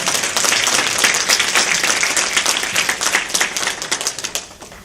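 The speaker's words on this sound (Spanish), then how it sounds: "Denle un aplauso a Cristo en esta mañana" A church congregation applauds during a Sunday morning service, dense clapping filling the room and then thinning into looser, more scattered claps toward the end, with no talking over it.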